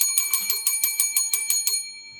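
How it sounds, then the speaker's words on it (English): A hand bell rings in a quick steady series of about ten bright metallic strikes, close and loud with no talk, the last ring fading out. "I'm going to start ringing this bell every time you ask a question"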